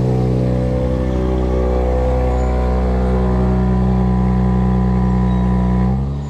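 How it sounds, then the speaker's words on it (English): A 2024 Nissan Z Nismo's twin-turbo V6 idles steadily, heard from outside the car, a loud, even engine drone that holds for about six seconds before it drops away at the end. "Listen to that twin-turbo V6 come to life. Let's hear that idle from outside the car."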